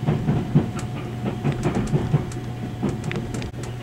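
Sunrise Izumo sleeper train running through a station on the passing track, giving a steady low rumble with rhythmic clickety-clack wheel beats over rail joints, fairly close and continuous.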